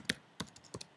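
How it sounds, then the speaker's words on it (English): Quiet typing on a computer keyboard during a WordPress theme tutorial: five or six light, irregular key clicks in about a second, close and soft. "Sorry about my typing."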